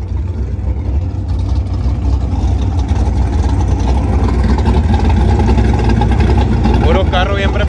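A loud roaring drag race car engine at Autódromo Hermosillo revs continuously under crowd noise and voices, heavy and rumbling throughout.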